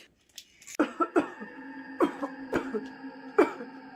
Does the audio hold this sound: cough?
yes